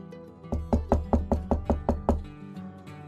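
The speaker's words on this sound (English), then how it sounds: "I heard the entrance doorbell ring and the sound of knocking." Knocking on an entrance door, heard as about ten firm, evenly spaced knocks in a quick steady rhythm, close and resonant, followed by one fainter knock after a short gap.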